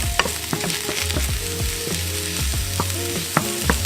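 Mushrooms frying with garlic in a pan give a steady close sizzle, overlaid with faint tonal hum and rhythmic knocks and scrapes from stirring.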